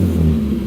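A Mitsubishi 4G Eclipse GT engine fitted with RRE headers gives a short, loud, rumbling rev close by; no distinct exhaust pops stand out.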